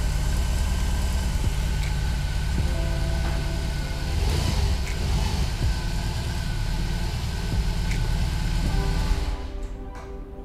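A BMW R18 motorcycle reversing under its electric starter motor gives a steady drone running continuously for several seconds, close and fairly loud, then dropping off near the end.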